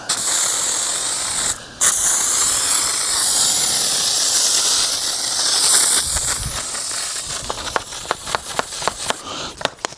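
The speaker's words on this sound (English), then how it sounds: "So this is the foam. It doesn't seem to pump as good as the other one." Bike-cleaner foam sprayer hissing out foam in a long, loud continuous spray, ending in a series of sharp pumping clicks.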